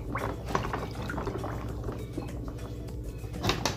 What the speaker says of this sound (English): In this next step, I put the models in a dirty wash,